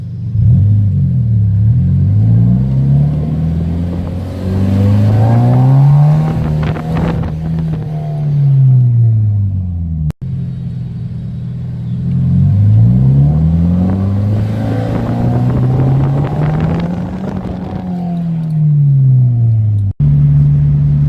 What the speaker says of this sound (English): the intake makes a weird sound when you rev